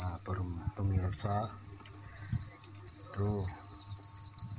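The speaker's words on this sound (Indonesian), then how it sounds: "Ini jangkrik madu kita lagi makan." Honey crickets chirp steadily while feeding in a rearing setup, a dense high-pitched trill running throughout. Brief murmured voices break in underneath.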